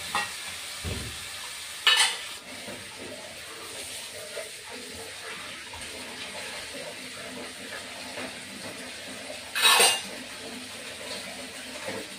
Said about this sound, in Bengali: আর একটু জল দিয়ে কষিয়ে নেব।